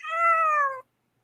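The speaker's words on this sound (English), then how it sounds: "I love that cat." A single clear cat meow, close and fairly loud, lasting under a second with a slightly falling pitch, followed by silence.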